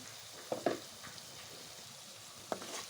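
Ground spice powders, coriander, garam masala, sesame and coconut powder, sizzle in hot oil for a potato kurma, with a few soft scraping stirs near the start and again near the end, otherwise a quiet steady fry.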